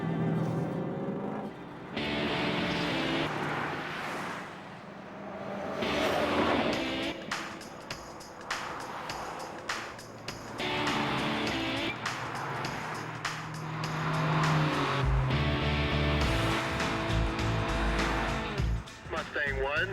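Ford Mustangs cruise along a freeway, with engine drone and road roar rising and falling as cars pass, and people talk over the traffic noise.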